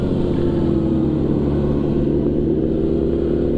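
A Suzuki GSX-R 1000 sportbike's engine drones steadily throughout while riding, a loud, continuous low rumble with a sustained mid-range hum and no voices.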